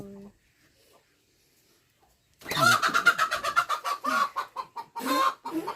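Chickens clucking at a rural Thai farmyard, a burst of rapid, close clucks and squawks in quick rhythmic pulses after a short quiet stretch, fairly loud and alone without talk.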